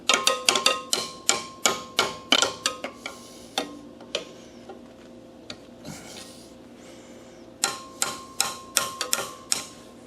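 Hammer blows ring out in a workshop, bursts of sharp metallic strikes in quick rhythmic runs at the start and again near the end, with a quieter stretch of scraping and shuffling between.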